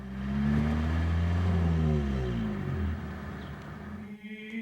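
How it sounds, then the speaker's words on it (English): A car engine sends out loud, sustained bursts of low, throaty rumble that swells and slowly falls away, with a brief sharper sound near the end. "we get big bursts of sound coming out from the engine"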